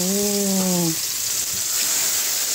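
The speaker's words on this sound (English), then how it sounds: "And hear that sizzling." Steady, loud sizzling hiss from cilantro frying in a pan fills the clip, briefly joined at the start by a sustained tonal hum.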